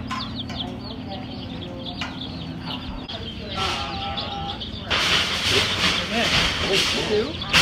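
Chicks and poultry at a farm store, a steady mass of high, busy peeping and chirping that runs throughout and grows denser and louder toward the end, over a low background hum.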